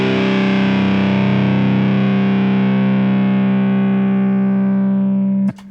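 An electric violin played through a Line 6 Helix with heavy drive and raised gain holds one loud, saturated, sustained note for several seconds, slowly fading in brightness before it is abruptly cut off.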